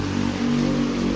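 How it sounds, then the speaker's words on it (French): A motorcycle engine hums steadily nearby on a rainy street, a continuous mid-pitched drone with a slight rise in the middle of the short stretch, heard over a wet background hiss. "Une moto vient de passer."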